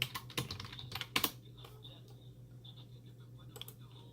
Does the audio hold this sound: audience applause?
no